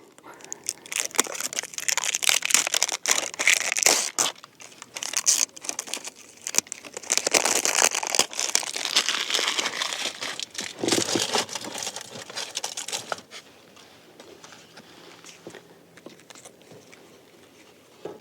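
Crinkling plastic wrap and packaging handled up close while a brand-new K86M spinning fishing rod rated 6 to 28 grams is unwrapped, rustling and crackling in irregular bursts that fade to quieter handling near the end.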